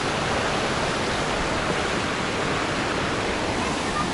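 Mountain river rapids and waterfall in Sochi, a dense, constant roar of rushing water filling the whole scene, close and loud with no variation.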